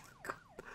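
A police siren chases the player in Farming Simulator 19, its rising and falling wail repeating quickly and clearly, with two brief thumps breaking through.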